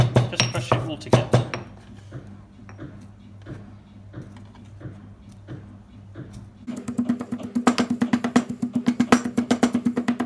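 Tomato chutney ingredients for a traditional Bengali recipe being crushed together, heard as repeated tapping and pounding strokes, irregular at first and then a fast, steady, close rhythm of sharp knocks.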